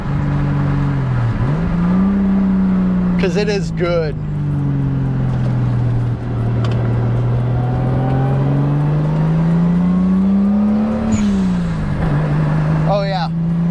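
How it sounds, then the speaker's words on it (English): A car's exhaust drones steadily while driving, its pitch rising and falling gently with the engine. The sound stays loud and continuous under a person talking throughout. "The symphony that comes out the exhaust of this is all I really care to listen to."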